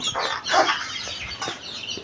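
Young cockerel chicks and chickens cluck as they are let out, with busy overlapping clucks and short calls coming in close, loud bursts throughout, and no talking.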